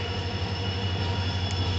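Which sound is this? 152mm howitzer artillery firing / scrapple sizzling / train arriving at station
train arriving at station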